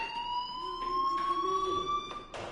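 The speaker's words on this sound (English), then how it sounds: "do you hear that fire alarm?" A fire alarm in the video game Life is Strange rings steadily with a high, continuous electronic tone and a faint wavering siren-like layer, with no voices over it.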